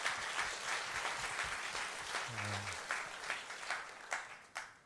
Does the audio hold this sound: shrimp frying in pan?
no